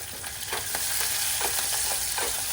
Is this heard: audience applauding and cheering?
no